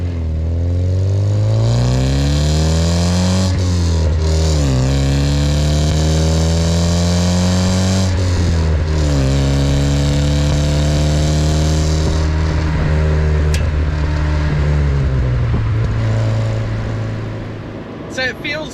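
An Alfa Romeo Alfetta twin-cam engine revs loudly and close, its pitch climbing and falling through several sustained pulls with no one speaking.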